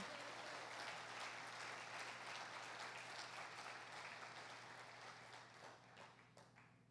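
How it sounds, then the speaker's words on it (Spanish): A church congregation claps during a Spanish-language family service, sustained applause that gradually thins toward the end over a low steady hum, fairly faint in level. "Dale un aplauso al Señor por eso."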